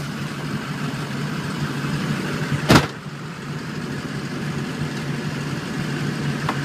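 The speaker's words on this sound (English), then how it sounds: "I think that he's learned how to drive a manual transmission." A manual transmission car being driven, its engine giving a steady, continuous rumble with one brief, louder burst partway through. No one speaks.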